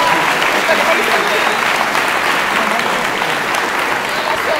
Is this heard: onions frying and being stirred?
no